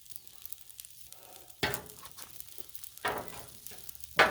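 Shrimp and rice stir fry sizzles softly on a Blackstone griddle, a quiet steady hiss broken by three short, louder bursts of spatter as the food is tossed.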